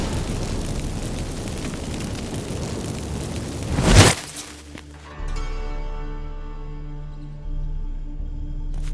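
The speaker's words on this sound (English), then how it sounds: "Get ready for some magic fireworks" Magic fireworks in The Witcher 3 video game burst in one loud, rushing blast that peaks and cuts off, leaving a low rumbling tail and fading ringing tones.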